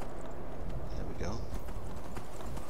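Hooves of a horse in the video game Skyrim clop along at a quick gallop, a steady rapid thudding under dense background game noise.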